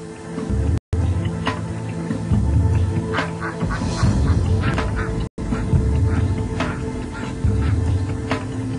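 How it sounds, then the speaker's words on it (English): A full-grown duck quacks several times over a steady tonal background, the calls close and fairly loud with short gaps between them. "A full-grown duck."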